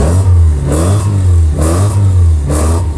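Honda Civic fitted with a D16Z6 engine, revved repeatedly up from a steady idle, three quick throttle blips rising and falling in a regular pattern, loud and close.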